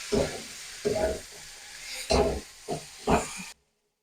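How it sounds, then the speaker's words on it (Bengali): Fried potatoes and green peas are stirred into a hot spice masala for ghugni, several separate scraping, sizzling strokes close by, then the sound cuts out. "সেই আলু মটরশুঁটি ভাজিটা মশলার সাথে ভালো করে মিশিয়ে নেব।"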